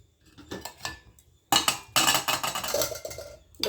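Close kitchen clatter: a few light clinks, then a louder clang and scraping rattle as a plate is set down as a lid over a metal pot of simmering rose tea.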